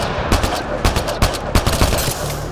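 Sharp, rapid gunshots from a weapon in Mass Effect Andromeda ring out in quick bursts, loud and close, with short pauses between clusters of shots.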